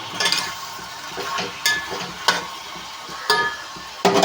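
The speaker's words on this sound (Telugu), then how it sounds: "ఈ పచ్చిరేలు ఉల్లిపాయలు బాగా వేగపోవాలండి" Raw prawns and onions fry in a pan, a steady sizzle punctuated by several louder scraping stirs of a spoon against the metal, close and without talk.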